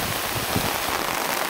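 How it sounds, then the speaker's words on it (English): Rain falls in Ireland as a constant, dense hiss of drops, steady and enveloping with no voices over it. "I hate the rain"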